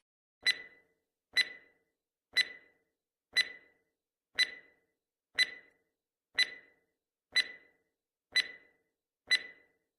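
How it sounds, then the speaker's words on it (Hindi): Countdown timer ticking in a song-guessing quiz, ten evenly spaced sharp ticks about one second apart, clear and isolated against silence. "तो आपका टाइमर शुरू होता है।"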